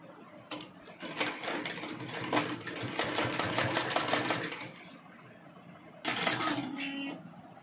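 A sewing machine stitches an A4 document file organiser in quick mechanical bursts, first a brief tap, then a long rattling run of several seconds, a pause, and a final shorter burst, close and clear with no speech.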